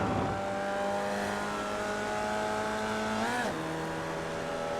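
A Formula Vee race car in the iRacing sim at Rudskogen Motorsenter holds a steady, buzzing engine drone at throttle, with a brief dip and pitch shift near the end as the car lifts, continuous and close with no talk.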